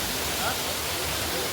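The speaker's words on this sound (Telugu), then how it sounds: "మట్టి కొండ వాటర్ అలా పడుతూనే ఉంది" Katiki waterfall in Araku sends down a steady, dense roar of falling water, loud and continuous throughout with no break.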